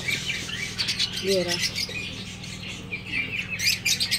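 Pet doves, including white, diamond and silver doves, chirp and call in a home aviary, with brief high calls scattered throughout while someone talks nearby.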